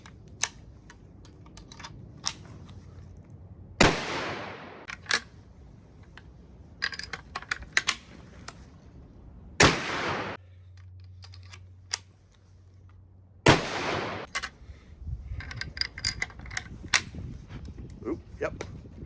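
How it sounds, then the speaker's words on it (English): Rolling block and Trapdoor Springfield rifles fired outdoors: three sharp, loud gunshots spaced several seconds apart, each with a short ringing decay, between clicks and handling noises from the actions. "Each individual shot, the rolling block and then the Trapdoor Springfield."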